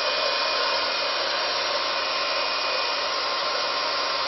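A VS Big Hair Styler, a rotating hair styler, runs with a loud, steady blowing whir that holds constant throughout with no change in pitch.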